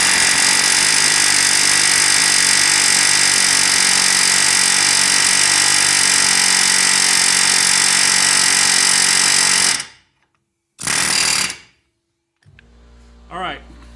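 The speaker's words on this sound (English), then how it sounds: "Then I'm going to take the air hammer and try to work it back and forth until it loosens up." An air hammer batters continuously and loudly at a seized ball joint on a 2010 Nissan Rogue, a dense rapid hammering that runs for about ten seconds, then stops, returns in one short burst, and gives way to quieter mechanical sounds.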